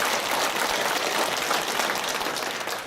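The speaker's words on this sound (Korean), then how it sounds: "그렇게 봐주시는 하나님께 박수 한번 드립시다." Church congregation applauding during a Sunday service, a dense, steady wash of clapping from many hands that holds for the whole stretch and tapers slightly at the end.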